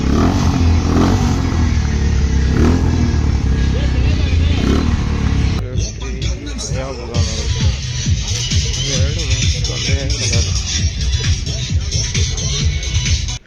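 Motorcycle engines revving loudly at a bike and car track session, a dense roar and throttle blips with crowd chatter and talk mixed in.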